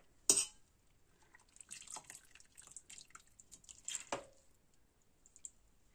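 Fresh Opopanax hispidus (kaymacık otu) leaves and stems, crushed, are dropped into cold water, giving a sharp wet plop, scattered soft squishing drips, and a second louder splash near the end, close by with no talk.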